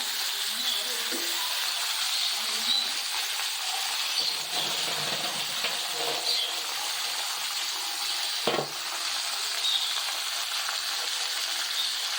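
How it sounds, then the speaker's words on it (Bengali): Fish frying in a pan at home for breakfast, a steady hissing sizzle that runs through the whole stretch with brief clatters near the end, no talk over it. "আর এই বাকি মাছটা এবার ভেজে নিচ্ছি"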